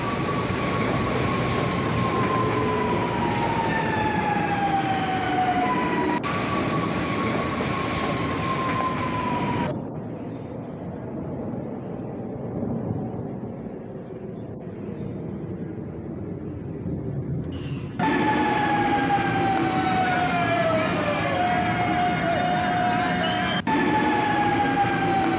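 Trains move through Central do Brasil station in the HMMSIM2 rail simulator, with a loud rumbling rolling run, whining motors that rise and fall, and a quieter stretch midway before the heavy rail noise returns.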